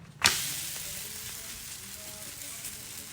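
A rice flour roti frying on a hot pan gives a sharp sizzle that bursts loudly at the start, then settles into a steady crackling hiss, heard close with no talking.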